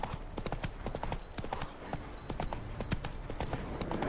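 Horse hooves clip-clop in a quick, steady rhythm on a hard surface in The Witcher 3 video game, loud and close, with faint background ambience.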